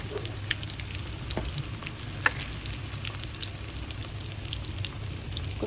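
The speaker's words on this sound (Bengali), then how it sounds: "খুব সুন্দর করে ভেজে নিচ্ছি" Chicken donuts frying in a little hot oil, a steady close sizzle with scattered soft pops and crackles throughout, no voices.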